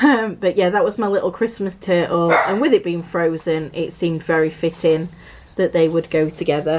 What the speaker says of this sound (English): Oh, dogs are off again.